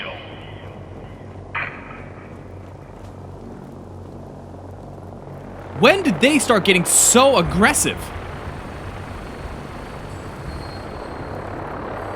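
Brotherhood of Steel helicopters in Fallout 4 give a steady, low rotor rumble throughout, with a voice speaking briefly over the drone near the end.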